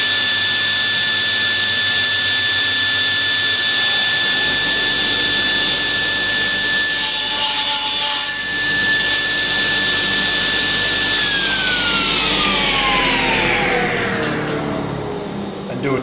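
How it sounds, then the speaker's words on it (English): A saw cuts across a wood piece held down on a crosscut sled, a loud whining motor tone that holds steady, then dips and winds down toward the end as the blade slows. "we start the saw."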